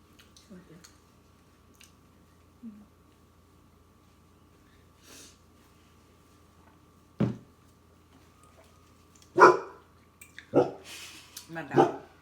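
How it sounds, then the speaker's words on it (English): A dog barks at home, reacting to someone outside during a seafood meal; several sharp, fairly close barks come in quick succession in the second half after mostly quiet room sound. "My dog heard somebody, y'all."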